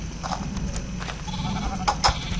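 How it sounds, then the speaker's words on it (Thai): An orange sheep in the Minecraft video game bleats in several short, close calls over a constant low game background. "มีลูกแกะส้มเว้ย แม่ แกะส้มเว้ย แกะส้มเว้ย"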